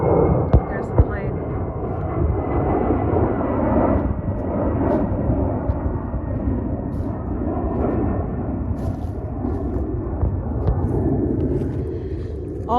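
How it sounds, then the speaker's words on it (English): A jet aircraft passes overhead near Cleveland Hopkins airport, its broad, steady roar filling the whole stretch at close range and holding loud throughout, with a faint voice briefly underneath. "There's the plane."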